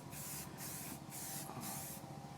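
Flat black spray paint hisses from an aerosol can in four short, evenly spaced bursts, close and clear with brief gaps between them.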